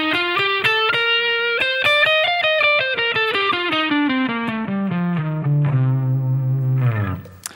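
Electric guitar with distortion and effects plays a full Dorian mode scale up and then back down in even single notes, ending on a held low note, loud and alone.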